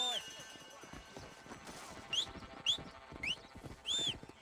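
Horse hooves clip-clop at a riding pace in a Red Dead Redemption western setting, a steady patter under game music and horse neighs and snorts, with brief chirping sounds above.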